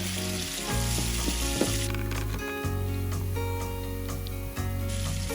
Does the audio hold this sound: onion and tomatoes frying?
yes